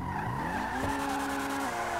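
Engine of a car revving and tires squealing as it skids, driven in GTA 5 Online, with steady shifting engine pitch and a sharp shift change, loud and continuous for about two seconds.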